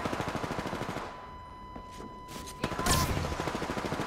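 Automatic weapon fire in the Apex Legends battle royale game: rapid, evenly spaced shots at the start, a pause with scattered game sounds, then a sharp impact and renewed steady bursts of fire.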